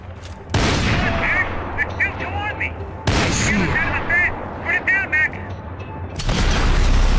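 Video game shooter gunfire: sharp broadband bursts at about half a second, three seconds and six seconds, with sustained firing and echoing tails between them, loud and close, while voices talk over the shots.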